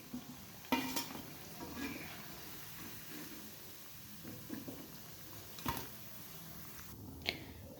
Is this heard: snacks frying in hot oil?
yes